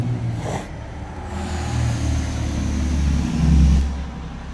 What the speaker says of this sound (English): Big loud truck coming.